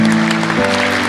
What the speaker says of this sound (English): Let's give one more round of applause for the students.